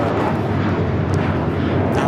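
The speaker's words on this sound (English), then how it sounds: "2891 taking off to Chicago on the A321" An Airbus A321 airliner taking off at LAX gives a loud, steady, broadband jet roar that holds at full strength throughout, with no talk heard.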